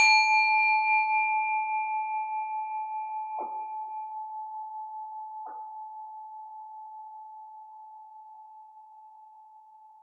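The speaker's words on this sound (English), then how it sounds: "Pausing to let the sound of the bell fade away." A single meditation bell struck once, ringing out with a clear sustained tone and a slowly pulsing shimmer, fading gradually over about ten seconds with a couple of faint soft knocks partway through, alone and without talk.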